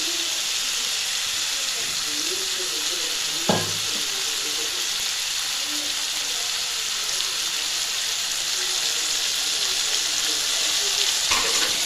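Tomatoes cooking in hot oil for a potato oil masala fry give a continuous bright sizzling hiss that holds steady throughout, with two short sharp clatters from a utensil, close and unaccompanied by talk.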